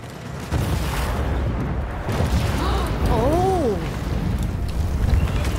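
A sudden explosion in the video game Second Extinction: a broadband roar bursts in abruptly and holds as a loud, sustained rumble, with warbling whistle-like game tones rising and falling over it midway.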